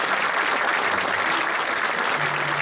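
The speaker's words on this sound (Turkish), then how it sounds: "O güzel alkışlarınızı düşürür müsünüz?" Sustained audience applause from a crowd at a live music concert, steady and dense clapping filling the whole stretch without pause, no voices over it.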